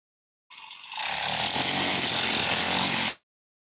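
A grass cutter motor starts up and quickly revs to a loud, steady whine nearby while clearing a backyard garden in a Konkan village, running for a couple of seconds before cutting off abruptly.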